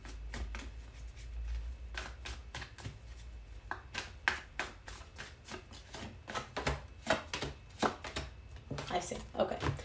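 Tarot cards are shuffled and handled in a rapid run of crisp riffling and tapping bursts, close up and fairly quiet, with faint background talk.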